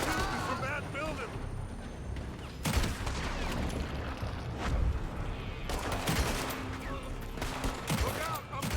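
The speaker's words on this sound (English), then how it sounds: "They're shooting from that building." Gunfire from the video game Red Dead Redemption 2 crackles in a dense, ongoing fusillade of shots and bursts, some louder and nearer than others, while voices talk over it.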